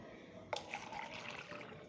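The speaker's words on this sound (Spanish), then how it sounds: "Lo que vamos a hacer es que vamos a vertirle agua al vaso." Water poured into a plastic cup pierced with holes, a faint soft trickle and splash beginning about halfway in and running on quietly, close, with no talk.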